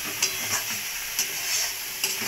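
Dried fish frying in a pan gives a close, constant sizzle, with a few soft scraping stirs at regular intervals.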